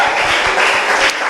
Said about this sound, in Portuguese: Quem acredita, aplaude e glorifique a Jesus nessa noite.